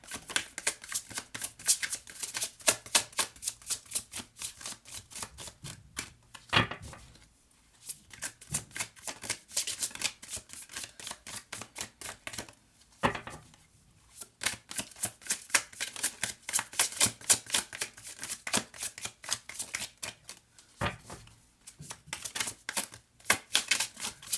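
Tarot cards being shuffled in repeated quick riffling bursts, crisp and close, pausing briefly a few times before resuming, with no talk.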